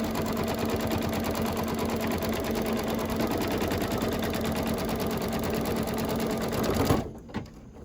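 An embroidery machine stitches a Halloween block onto jean fabric with a fast, steady mechanical whirring and rapid needle rhythm, close and loud, stopping abruptly near the end with a few clicks.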